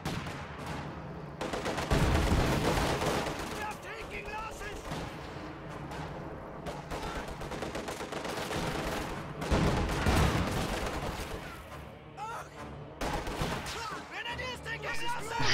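PTRS anti-tank rifle shots and dense gunfire in a Company of Heroes-style video game battle; continuous loud volleys and bursts with heavy impacts, while a commentator talks over the action.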